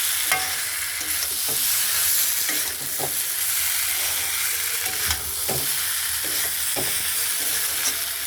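A fish curry with vegetable stalks is stirred in a hot pan, giving a continuous loud frying sizzle with repeated scraping strokes and soft knocks of the spoon, close up, with no voices.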